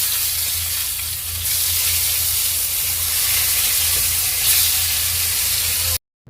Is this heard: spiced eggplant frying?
yes